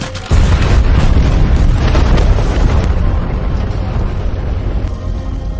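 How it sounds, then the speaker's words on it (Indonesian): Explosion from a fighter jet strike in the 2022 war film The Ambush: a sudden heavy boom followed by a sustained roaring, rumbling blast that slowly fades, with no voices. "Dan setelah itu pun ledakan pun terjadi."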